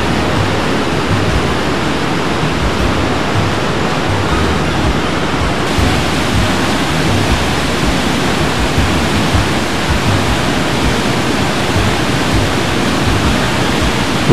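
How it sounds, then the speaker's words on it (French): A waterfall cascade about thirty metres high roars in a dense, constant rush of crashing water, loud and close, with no break for the whole stretch. "Ah, les chutes d'eau sont plus importantes."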